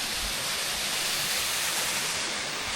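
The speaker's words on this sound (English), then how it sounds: "Nice little waterfall." A small mountain waterfall in the Pyrenees rushes with a steady, dense hiss that fills the whole moment without a break.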